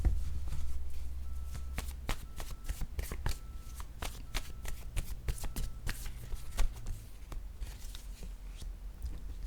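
Word cards for a card reading are shuffled by hand, close up: a long run of quick, crisp riffling slaps and flutters, irregular in rhythm, with no speech over them.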